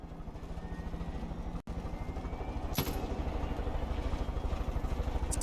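A helicopter in the video game Far Cry 5 gives off a faint, steady rhythmic rotor chop over an engine hum, with one brief sharp dropout partway through.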